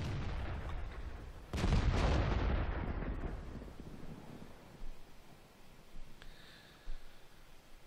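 Self-propelled artillery gun firing in World of Tanks on the Live Oaks map, a single booming shot followed by a long rumbling decay, with faint smaller thuds afterward.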